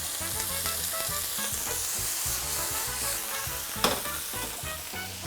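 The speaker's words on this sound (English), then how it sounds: "These taste very, very good when they are sauteed. So some onions and radishes as well in this." Onions and radishes sauté in a hot pan, a steady loud sizzle running throughout with occasional stirring scrapes and one sharp clink near the end, no voices.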